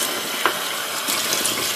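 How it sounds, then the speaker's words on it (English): Cold tap water pours steadily into a sink over a rock, a continuous close hiss of running water with a brief splash partway through. "And you just want to pour cold water in."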